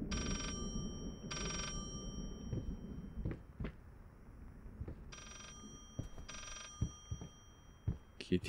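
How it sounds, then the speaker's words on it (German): A telephone rings in the horror game Layers of Fear, four clear bursts of bell ringing in two pairs, heard against low droning ambience with scattered knocks and footsteps. "Es klingelt hier ein Telefon."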